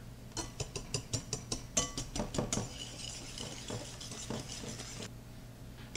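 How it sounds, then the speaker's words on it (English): Brownie batter being whisked by hand in a bowl, a quick series of metal whisk clinks against the bowl for a few seconds, then a softer, steady stirring swish, quiet and close. "just going to take a whisk. I'm going to blend this all together until it's nice and smooth and creamy"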